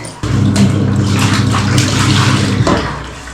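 Water pours and splashes steadily during a bath, a broad continuous rush with low rumble, close and loud throughout with no talking.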